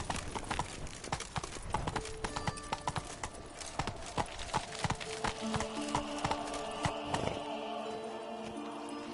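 Roach, the horse in the video game Witcher 3, trots with rapid, rhythmic hoof clip-clops on hard ground, dense and continuous under tonal game sounds, slowing toward the end.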